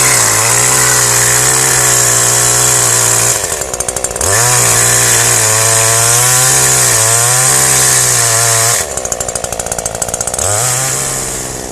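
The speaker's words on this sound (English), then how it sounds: "Saw on now, quite safely with chainsaw in half." Chainsaw cutting a wooden strainer post for a fence: a loud, steady engine roar held under load, briefly dipping to idle twice before biting back in, close by and continuous.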